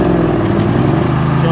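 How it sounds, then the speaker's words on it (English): Briggs and Stratton 22hp OHV engine on a Craftsman lawn tractor, running with the choke out, holds a steady, loud, even idle throughout the short stretch. "So, choked out, runs well."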